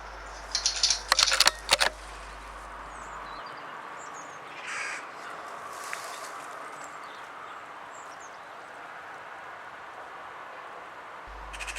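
Crows caw from trees around a farmyard, a few loud harsh calls bunched near the start, then fainter distant caws and soft rustling over quiet outdoor background.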